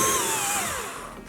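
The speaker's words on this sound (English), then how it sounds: "get a 15 Torx bit and remove these two bolts" A power driver with a T15 Torx bit spins out a bolt on the tail light of a third-generation Chevy Silverado, giving a loud, steady whine that slowly falls in pitch as the bolt backs out.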